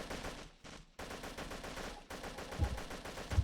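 Automatic gunfire in the video game Battlefield, rapid bursts of shots and close booms in quick succession, with brief gaps, loud in the mix.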